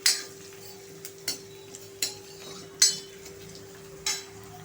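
Onion frying to light brown in a pan for a dhaba-style dal palak tadka, with a spoon stirring and clinking against the metal about seven times over a faint, steady sizzle and no voices.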